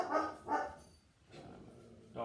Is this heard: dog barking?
yes